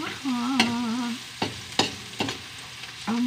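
Garlic sautéing in a pan, with sizzling frying and intermittent scraping stirs from a utensil, close and clear, no talking.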